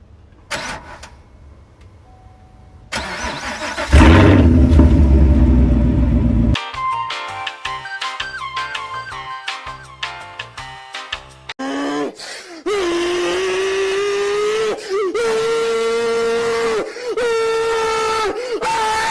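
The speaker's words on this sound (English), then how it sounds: "here's the start with no muffler" A Camaro SS engine with no muffler cranks and fires up, then settles into a loud, raw, rumbling idle, running steadily for a long stretch.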